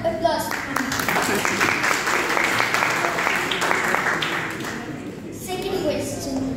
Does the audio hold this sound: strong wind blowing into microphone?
no